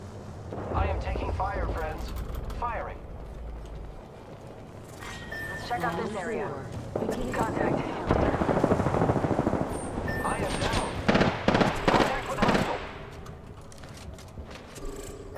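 Gunfire in the Apex Legends shooter game: scattered shots and rapid automatic bursts, denser and louder in the second half, mixed with game effects while a player talks over them.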